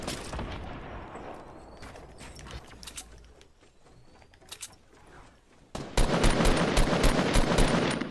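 Rapid bursts of Fortnite gunfire crackle at a distance, then a louder, denser volley of shots erupts near the end.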